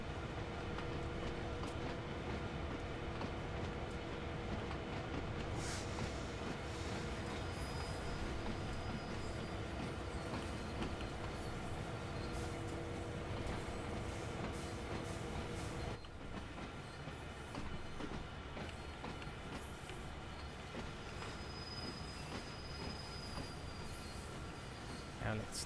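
A train running on rails in the Train Simulator game, with a steady, loud rolling rumble, rhythmic wheel clicks and occasional high squeals throughout.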